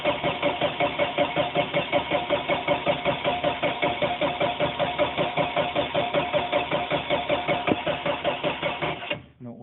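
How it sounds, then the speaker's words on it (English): A 1958 MGA engine cranks and catches, then idles with a loud, even, pulsing beat close by for several seconds before cutting off abruptly near the end. "I figured I just start it up one more time."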